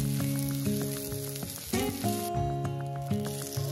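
Onion with ginger garlic paste sautés in a pan, a steady close sizzle over a soft musical background, with no voices.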